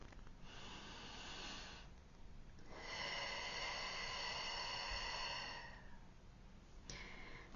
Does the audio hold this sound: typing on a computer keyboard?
no